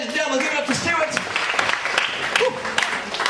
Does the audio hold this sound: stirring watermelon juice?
no